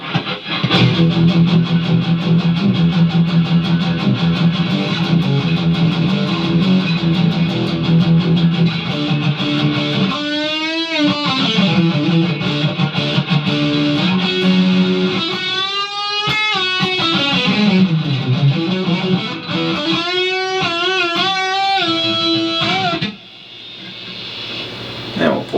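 A 2020 Epiphone Inspired By Gibson 50s Les Paul Standard Gold Top played through a Marshall amp with gain at maximum, giving loud, saturated distorted chords and sustained notes, then bending, wavering lead lines before a sudden cut to quieter ringing.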